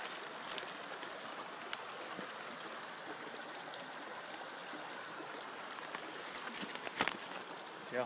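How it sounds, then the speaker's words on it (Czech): Stream water rushing and splashing over stones on a spring walk, a steady close, broadband wash with small trickles and splashes throughout, no voices. "Když je víc vody, je to tady slušný hukot přes ty kameny."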